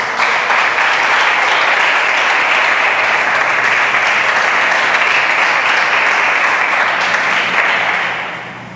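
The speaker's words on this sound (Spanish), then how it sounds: "Palmas al Rey." A church congregation applauds the King, a loud, dense, sustained clapping from a large room that holds steady and then tapers off at the end.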